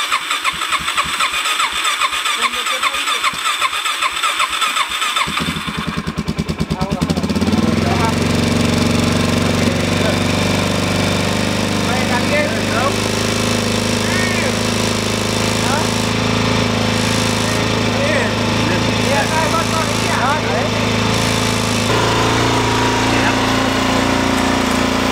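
A brand-new dirt bike with 370 miles starts up with a sputtering crank, then settles into a steady, loud, close engine run with no ticking, under occasional talk.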